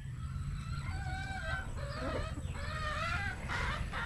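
Hens cluck and a rooster crows nearby in a short run of throaty calls over a constant low rumble.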